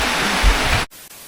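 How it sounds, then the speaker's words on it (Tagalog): Heavy rain pours steadily in a forest setting, a loud dense broadband wash that suddenly drops to a much quieter patter near the end, with no talking. "Sobrang lakas ng ulan."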